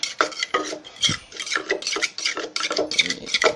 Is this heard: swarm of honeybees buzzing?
no